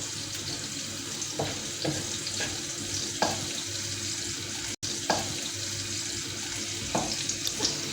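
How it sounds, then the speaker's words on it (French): Hot peppers and garlic cook in a pan for Tunisian ojja, giving a continuous close sizzle with periodic soft scraping taps from stirring, no talking. "On doit bien mélanger avec de l'ail."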